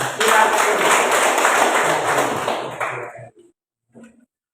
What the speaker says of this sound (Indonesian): tepuk tangan. Silakan.